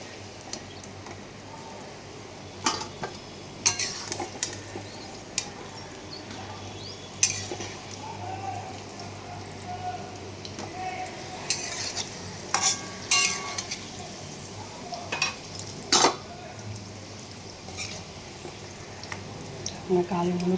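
Potatoes fry in hot oil with a continuous low sizzle while a utensil lifts them out, adding repeated sharp scraping clinks of metal against the pan at irregular intervals.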